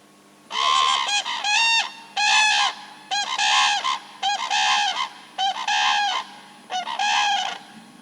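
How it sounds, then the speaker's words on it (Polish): Two birds honk in a repeating duet, loud harmonic calls trading off in a steady rhythm, one voice starting and a lower one joining just after. "Zaczyna pierwszy ptak, po 300 milisekundach niższym tonem dołącza drugi."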